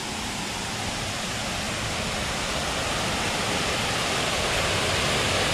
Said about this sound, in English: There is that man-made waterfall, and there is a beautiful shot of the canal